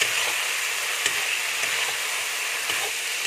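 Chicken meat with spices fries in a pan, a dense, continuous loud sizzle with a few faint stirring taps, close up and steady throughout, no voices.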